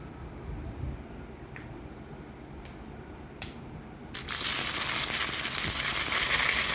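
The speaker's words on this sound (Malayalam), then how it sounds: "ഇനി അതിൽ കടുക് പൊട്ടിച്ച് ഈ ചതച്ച് വെച്ച ഉള്ളി മുളക് അതിലിടാം" Mustard seeds crackle with a few sharp pops, then crushed onion and chilli hit the hot oil with a sudden loud, steady sizzle that continues to the end.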